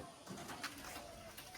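Pigeons coo softly in a brief, faint stretch of low murmuring calls against quiet background noise.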